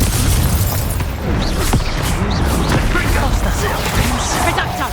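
Blasting spell explosions in Hogwarts Legacy boom and crackle loudly and close, with dense rumbling bursts and scattered pops amid ongoing combat noise.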